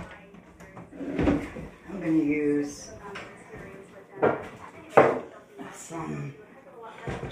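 A household door is pushed shut nearby, giving a few dull thuds and knocks among soft rustling, with people talking quietly over much of it.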